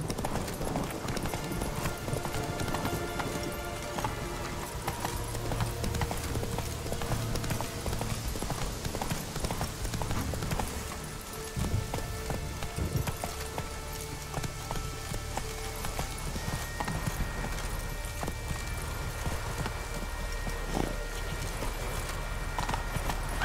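Horse hooves gallop in The Witcher 3, a steady rapid clip-clop running through the whole stretch over constant game ambience, with faint rain-like patter underneath and only slight voice.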